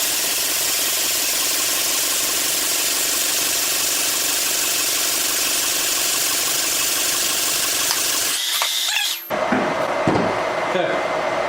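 A Toyota MR2 turbo engine runs steadily at a loud, close idle with a dense, even drone, then briefly dips and sputters near the end before settling back into a running hum.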